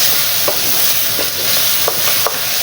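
Dal ingredients with salted tomato being stir-fried in a pan, a loud, steady hiss of frying with a few soft spoon taps, close and without talking.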